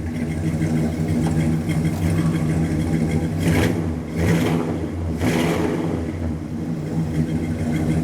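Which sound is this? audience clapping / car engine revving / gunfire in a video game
car engine revving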